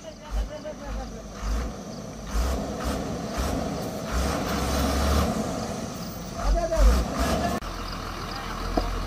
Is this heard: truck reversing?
yes